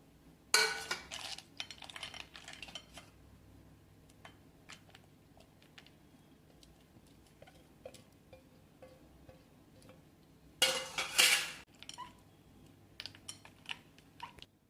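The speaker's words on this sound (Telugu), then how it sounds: "ఇప్పుడు అన్నీ కలిపి మిక్స్ చేస్తాం." A spoon stirs mango sago with condensed milk, ice and mango slices in a bowl, giving light scattered clinks and scrapes, with two louder, rushing clattering bursts near the start and later.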